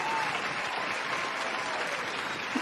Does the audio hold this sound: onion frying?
no